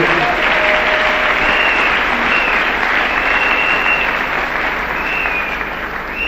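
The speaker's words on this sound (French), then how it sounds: "Acclamons pour la parole de Dieu." A church congregation at a temple dedication service breaks into sustained, dense applause that stays loud and even for several seconds before easing slightly at the end.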